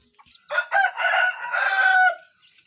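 A single rooster crows nearby, one loud and drawn-out call with a few clucking notes before it, against near silence.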